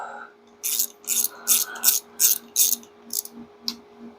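Ratchet wrench tightening a camshaft bolt during a home engine build, giving about eight or nine short, crisp clicking bursts in an even rhythm, close and fairly quiet.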